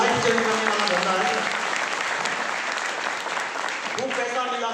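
Audience clapping at an RCM business motivational seminar, a thick sustained round of applause with a voice speaking over it at the start and again near the end.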